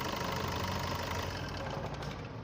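The engine of a 2016 Maruti Suzuki S-Cross Zeta idles at a steady, even rumble, recorded close up, with no talking over it.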